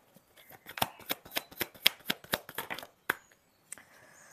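Tarot cards being shuffled by hand, a quick run of crisp riffling flicks up close, then a pause and a couple of final taps.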